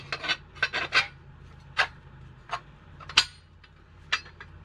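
Interlocking metal bracket parts for a dual-mount adjustable four-link setup are slotted together, producing a series of short, sharp scraping and clinking contacts in irregular bursts, close by, with no talk.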